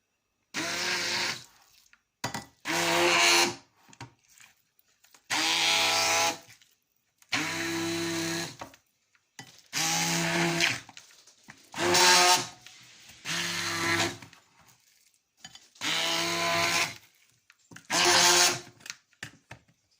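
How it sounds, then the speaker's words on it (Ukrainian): A blender grinds cheese curd mixed with egg in repeated short bursts, about eight pulses separated by brief silences, loud and close. "І цю всю суміш перемелюю на блендері."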